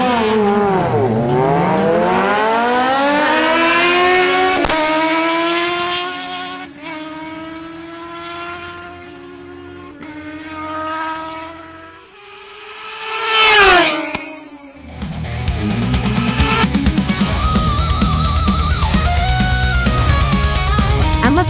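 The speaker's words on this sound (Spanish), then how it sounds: "se enfrentan la Kawasaki ZH2 de Harold Rodlow contra la Kawasaki Ninja Z1000SX de Martín Correa" Two Kawasaki sport motorcycles, a ZH2 and a Ninja Z1000SX, drag racing a quarter-mile strip: loud engines rev through rising, shifting gear sweeps, briefly fade, then a close high-revving pass roars by followed by a sustained engine drone.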